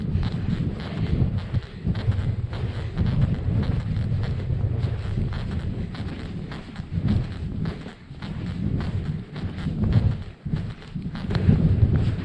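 Strong wind buffets across open Dartmoor moorland at a wild camping spot, a constant loud rumbling roar with gusty swells and microphone buffeting throughout.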